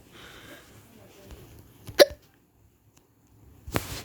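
One sharp, loud hiccup near the middle, with a faint murmur of a voice before it and a softer breathy sound closing the clip.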